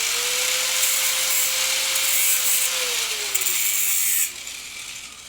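A steel toe cap being deburred for a pair of sandals, giving a steady, close rubbing and grinding hiss with a faint whine that eases off near the end.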